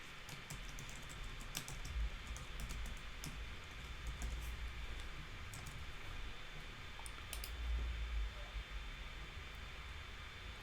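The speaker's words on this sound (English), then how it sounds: "now when I'm typing in this sample address" Steady typing on a computer keyboard during a design tutorial, a continuous stream of light clicks over low background hum and noise, fairly quiet and without any talk.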